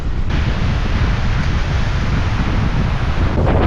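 Strong wind buffeting a microphone at the seaside during a sea bass fishing outing, a constant loud roar with low rumble and possible surf underneath, no talk.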